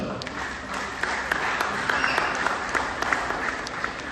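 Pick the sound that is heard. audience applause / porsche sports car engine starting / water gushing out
audience applause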